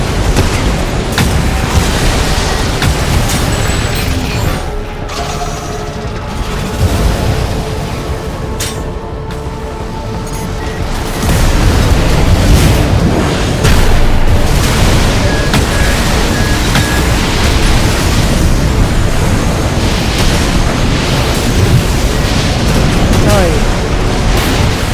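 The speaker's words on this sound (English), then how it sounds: "they kinda got me first before I detonated the assault armor" Assault armor detonates in the mech game Armored Core 6, a loud, dense, rumbling explosive burst that swells after a brief lull and roars on continuously amid heavy combat noise.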